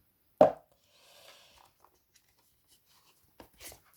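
A cardboard box holding the Les Glyphes de Féore oracle card deck is opened: one sharp, close pop as the lid comes free, then a faint papery rustle and a couple of soft taps.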